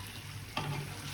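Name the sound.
chicken kosha frying in a pan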